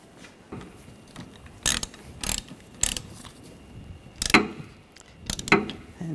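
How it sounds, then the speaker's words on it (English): A ratchet tightens the nut on a Ford Escape wiper arm, with short, sharp clicking bursts spaced unevenly over several seconds, close and crisp against a quiet background. "And tighten that down."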